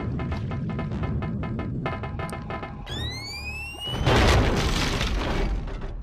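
A tank explodes in a cutscene from the video game Conker's Bad Fur Day: a sudden loud, sustained boom with crackling debris follows rhythmic plucked music and rising whistling tones.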